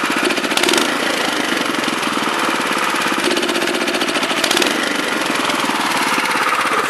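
A Honda FR600 tiller engine runs with the choke half on, a loud, close, steady rapid chugging that holds an even rhythm for about seven seconds, with no talk.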